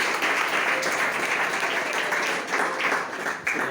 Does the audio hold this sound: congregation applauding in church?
yes